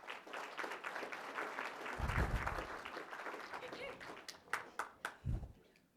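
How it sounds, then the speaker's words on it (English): An audience claps in applause for a guest at a gathering about a Jersey dairy herd, a moderate round of clapping that thins out into a few scattered, louder claps near the end, with some voices mixed in. "would you please join me in a round of applause for Eric Silva"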